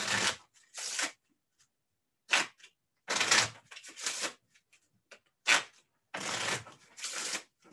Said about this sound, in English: While you're doing that, I'm going to shuffle these cards.